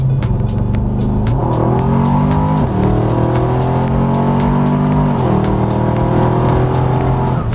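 A 1000+ hp twin-turbo Jeep SRT8 accelerating hard, its engine roaring loud and continuous with rising pitch that drops at each gear shift, heard from inside the vehicle.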